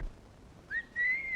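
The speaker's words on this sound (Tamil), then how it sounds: "எத்தனை தடவை சொல்லிருக்கேன் விசில் அடிக்காதே விசில் அடிக்காதேன்னு" A person whistles a short, clear tune in two quick rising bursts, quiet and alone with no talk.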